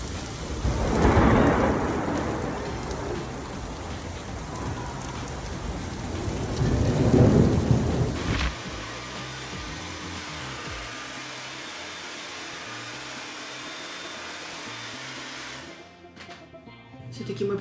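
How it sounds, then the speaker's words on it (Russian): Heavy rain pours down during a thunderstorm in Chicago, with two loud rolling thunderclaps in the first half, then steady rain hiss and dripping continuing alone to the end. "Все-таки мы попали под такой ливень."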